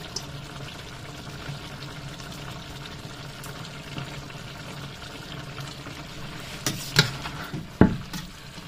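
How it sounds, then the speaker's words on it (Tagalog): Onions go into a hot pan and are stirred, giving a steady low sizzle with soft scraping, then a few sharper clanks and stirring knocks near the end, close by. "So, ilalagay ko tong ibang sibuyas."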